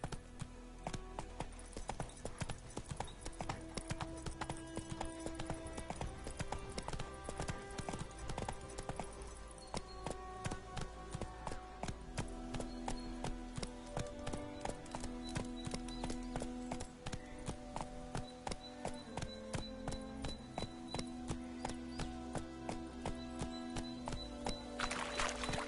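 Roach the horse galloping in The Witcher Wild Hunt, a steady rapid clip-clop of hooves running continuously and close, with game sounds in the background.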